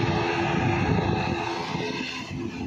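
Airplane at Bhopal airport with a loud, continuous engine roar close by, a dense whooshing drone that holds steady throughout.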